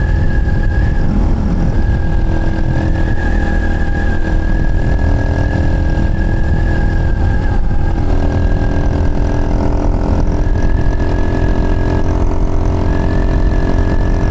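Chinese TT 250 motorcycle ridden flat out uphill, its engine holding a loud, steady high-rev drone with gentle pitch shifts as it strains on the climb.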